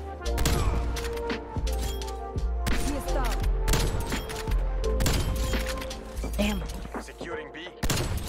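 Sniper rifle shots in a Snipers Only game mode, sharp repeated gunfire bursts and impacts layered over game effects, with a player talking throughout.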